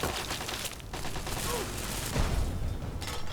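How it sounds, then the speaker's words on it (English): Automated turret firing at the player in Fallout 3: rapid, dense gunfire rattling continuously under ambient game noise, with a heavier thump near the end. "Oh no, I'm the target. Turret start shooting me."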